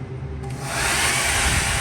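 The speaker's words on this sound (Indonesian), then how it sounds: "Hair dryer ya, hair dryer." A hotel-room hair dryer in Unaizah, Al Qassim, Saudi Arabia switches on, its steady whirring blow rising after a soft start and then holding loud and constant.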